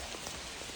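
Steady rain patters on a surface along the Appalachian Trail in New Hampshire, a brief, dense hiss of drops filling the moment with no voices.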